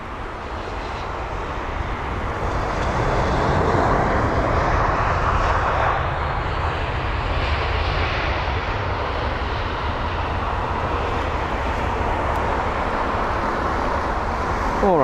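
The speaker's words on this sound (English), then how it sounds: "that was Bulgaria Air and their A319" An Airbus A319 jet of Bulgaria Air arrives at London Heathrow, its engines a loud, steady roar that holds broadband through the whole stretch with no voices over it.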